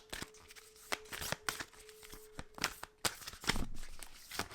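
A deck of Starseed Oracle cards shuffled by hand, a close series of quick papery riffles and taps in uneven bursts against a quiet room with a faint steady hum.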